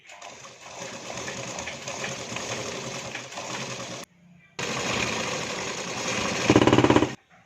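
A sewing machine stitches a two-piece katori blouse in a tailoring lesson, running in a fast steady rattle, pausing briefly mid-way, then resuming and speeding up louder near the end.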